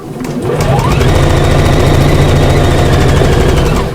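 A sewing machine stitches through layers of wadding on a fabric bag in one continuous, loud, fast mechanical chatter. It spins up quickly and runs steadily for several seconds before winding down.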